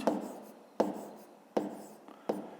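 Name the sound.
handwriting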